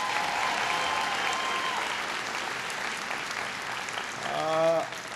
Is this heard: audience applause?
yes